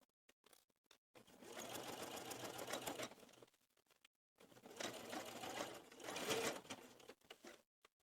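A sewing machine stitching a placket on baby overalls, two separate bursts of rapid close whirring with short quiet pauses and small clicks between them, no voices.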